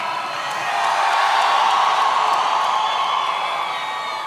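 A conference audience at the SkillsUSA 2017 opening ceremony screams and cheers as one loud, sustained roar of many voices that swells quickly and holds steady.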